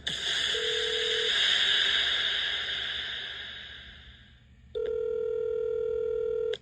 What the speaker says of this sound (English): It's another Jubal phone prank.